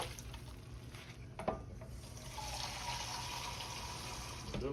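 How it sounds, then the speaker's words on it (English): Water runs steadily from a tap into a cooking pot for a Hamburger Helper lasagna, starting quietly and swelling into a continuous pour after a brief clatter, heard close up in a home kitchen. "I think it's what, 3 cups of water in this thing."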